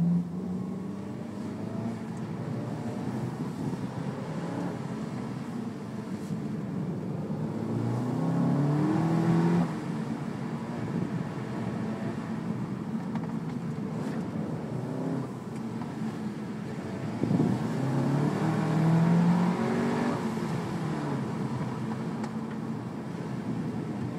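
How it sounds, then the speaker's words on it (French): A car built on the MQB platform revs hard with its exhaust opening up, a steady close engine drone that swells twice into rising, brassy acceleration pulls, with no voices. "le moteur devient limite brutal je dirais. L'échappement se libère légèrement"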